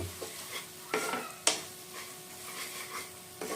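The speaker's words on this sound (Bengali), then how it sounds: "আর এখন মশলাগুলোকে ভালো করে কষিয়ে নেব" Ground spices including cumin powder being sautéed and stirred in a pan for Bengali muri ghonto: a low sizzle broken by a few sharp, close spoon scrapes and clacks against the pan.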